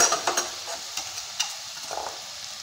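Spoon stirring chili powder, coriander powder and cumin into a drumstick curry in a hot pan, a few scraping strokes over a soft sizzle, close and moderately loud.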